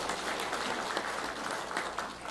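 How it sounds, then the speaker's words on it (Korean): A church congregation applauds after a worship song, a steady, fairly soft roomful of clapping that carries on evenly through a brief moment. "우리 하나님께 영광의 박수 올려드리겠습니다"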